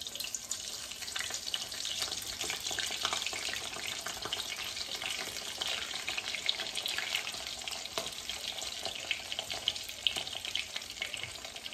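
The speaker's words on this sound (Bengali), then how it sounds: "এখন কয়টা রোল ভাজবো।" Tuna fish kebab rolls fry in hot oil, giving a continuous bright, crackling sizzle at close range with no talking, steady throughout with small irregular pops.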